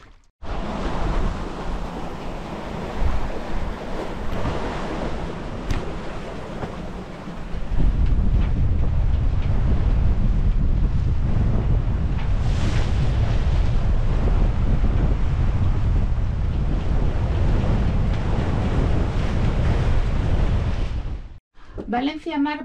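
Strong wind roars across the microphone while waves wash and surge steadily aboard a sailing boat at sea between Ibiza and Valencia, loud and continuous, dropping briefly near the end before a faint voice.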